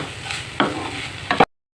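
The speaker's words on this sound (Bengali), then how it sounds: "এখন ভালো করে মশলার সাথে আলুটাকে মিক্সড করতে হবে।" Potatoes stirred with spices in a frying pan: a few scraping strokes of the utensil over a steady, quiet sizzle, with no voices.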